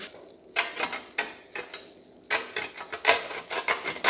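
Whole nutmeg grated by hand: uneven bursts of dry, rasping scrapes, some short and some drawn out, close by with small pauses between strokes.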